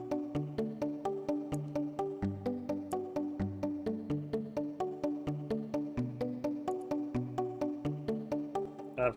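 Arpeggiated synth preset from Nexus, a bright plucky pattern repeating in fast, even steps with shifting chords underneath, played steadily and fairly loud with no voices.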